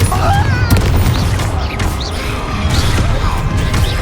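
Bombarda spell blasts in the video game Hogwarts Legacy, a rapid string of loud crashing explosions and impacts with combat effects, under occasional voices.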